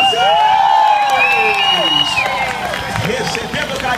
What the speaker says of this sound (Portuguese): Com os aplausos de vocês,